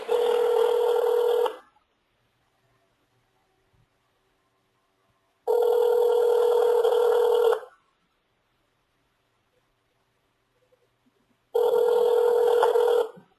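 A telephone rings three times in even, long electronic bursts separated by stretches of silence, clear and close with no talking.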